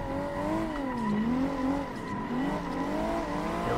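Tandem drifting cars in the Assetto Corsa racing game, their engines held high in revs with wavering pitch while tires squeal steadily throughout, loud and continuous.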